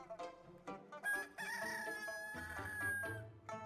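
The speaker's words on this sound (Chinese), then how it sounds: "清晨打鸣是公鸡该干的事情" A rooster crows once, a drawn-out cock-a-doodle-doo that rises and holds before trailing off, sounding fairly faint and alone with no talking.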